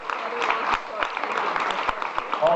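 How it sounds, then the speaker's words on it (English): Wedding guests applauding at a reception toast, a steady crowd clapping that stays fairly even throughout, with some talk mixed in underneath. "We've done one more big round of applause for our maid of honor and our best man of the day"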